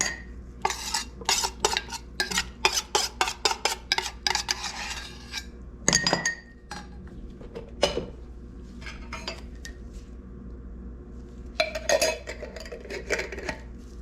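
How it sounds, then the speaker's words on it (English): Homemade cat food is spooned into glass jars with repeated bright clinks and scrapes of utensil on glass, irregular and close, with quiet pauses between bursts. "Put it into the glass jars."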